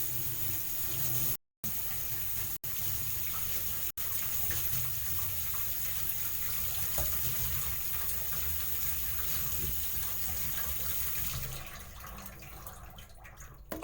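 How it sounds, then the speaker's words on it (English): Tap water runs steadily into a sink while mushrooms are washed under it, a continuous splashing rush with a few brief gaps early on, the flow easing slightly near the end. "I'm gonna wash the mushrooms in this meantime."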